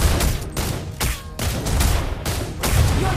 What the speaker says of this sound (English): Behold my crescendo of bullets.